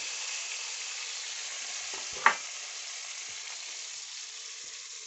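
Eggplant slices frying in a pan, a steady soft sizzle throughout with one sharp clink of a utensil near the middle, no talking.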